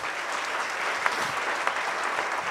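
Church members of GBI Sawangan clap for Jesus, a thick, continuous roar of many hands at full strength, with a couple of sharper claps standing out.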